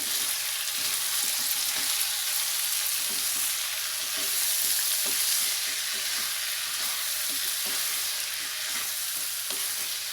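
Cucumber pieces sauté in a hot tempering for cucumber poha, giving a steady close sizzle with soft, regular stirring taps of a spoon in the pan and no talking.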